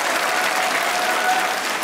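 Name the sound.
studio audience applause for the host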